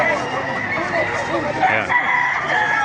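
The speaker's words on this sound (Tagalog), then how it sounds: "papakita ko sa inyo yung mga manok dito sa Baliwag mga master" Roosters crow continuously and hens cluck amid the busy din of a chicken market in Baliuag, Bulacan, with several birds calling over one another close by and some talk underneath.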